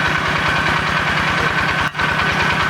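A water pump engine set up at a rice field runs steadily with a rhythmic knocking idle, loud and close throughout, with a momentary dip near the end.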